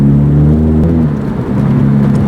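Modified 2006 Chevy Cobalt engine while driving, a loud steady in-cabin drone with engine pitch shifting through gears, no talking.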